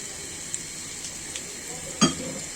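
Bay leaf, two cinnamon sticks and chopped onion sizzle in a hot pot, a steady close hiss with light ticks and a sharper clink near the end.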